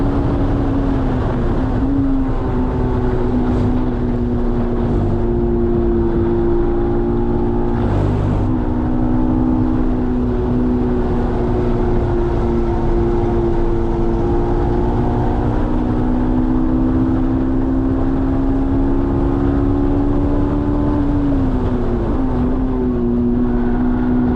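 A Honda S2000 driven hard around Watkins Glen race track, its engine a loud, sustained in-car drone whose pitch rises and falls with shifts and braking, with steady wind and road roar throughout.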